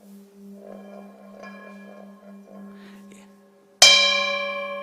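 A single bell struck once with a bright metallic clang that rings on and slowly decays, following a low steady hum.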